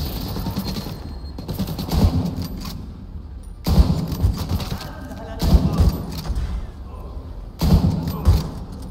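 Automatic gunfire in the video game Tom Clancy's The Division 2, loud bursts of rapid shots in several clusters separated by brief pauses, close and sharp.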